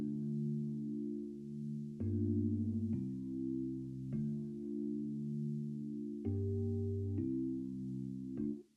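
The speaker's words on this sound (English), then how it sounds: "I added a vintage chorus effect to the chords." Sustained keyboard chords shimmer with a warbling vintage chorus, changing every second or so in a slow progression, no voices.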